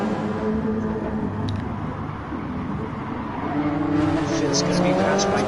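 LMP1 prototype race cars in a sim racing game at Fuji Speedway roar past as a dense, rising engine drone that swells louder near the end, with commentators talking over it.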